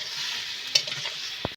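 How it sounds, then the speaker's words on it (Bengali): River fish curry with ridge gourd stir-fries in a pan with a steady close sizzle, broken by a couple of spatula scrapes and taps. "দিয়ে আমি বারবার ভালো করে কষিয়ে নেব।"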